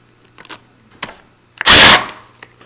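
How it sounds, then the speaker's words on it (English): Two screws driven in to fasten the plate of a storeroom-function lever handle, heard as scattered close clicks and one loud burst of driver whirring, with no talk. "we're going to secure that with 2 screws"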